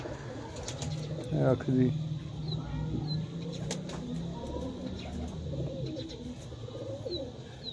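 Pigeons coo softly and repeatedly on a rooftop, a low murmuring under steady outdoor background noise, while someone speaks briefly.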